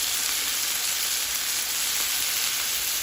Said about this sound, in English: Here they are, sizzling hard in a cast iron skillet.